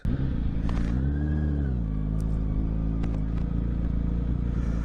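A motorcycle rolls in close by, its engine rumbling steadily and briefly revving, with clattering mechanical noise over a constant low drone and no talk.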